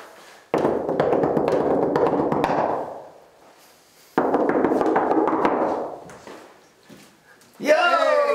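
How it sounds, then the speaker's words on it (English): A paradiddle knock rapped on a backstage dressing room door: two bursts of fast, rhythmic knuckle taps, loud and close, each lasting a couple of seconds, followed by a voice calling out from inside. "It's the paradiddle knock."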